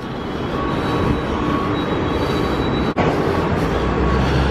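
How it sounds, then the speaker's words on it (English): A Las Vegas tram pulls into its station with a steady, loud rumble of wheels on rail that holds throughout, broken by one brief dropout near the end; no one speaks. "All right, the tram got here."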